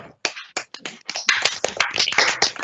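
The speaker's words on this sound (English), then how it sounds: "Can we applaud that a minute," An audience applauds a poem at a creative writing competition: scattered separate claps at first, quickly thickening into fuller, louder clapping from several people that carries on to the end.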